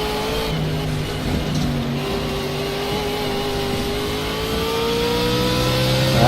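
A BMW Z4 in a racing video game, its engine revving as it accelerates with a steadily climbing whine, occasional shifts where the pitch drops back, loud and continuous with no talk over it.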